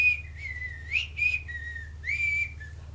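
Whistled melody of a hip hop song, the tune known from Kill Bill, carried by one person in a steady stream of held and gliding notes with short breaks, close and clear over a low background hum.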